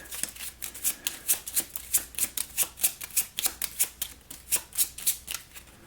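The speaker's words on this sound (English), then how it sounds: "we shuffle the nasty wound into the event deck" Cards riffle and snap in a quick, regular rhythm as a board game event deck is shuffled up close, around fifteen crisp bursts with no voices.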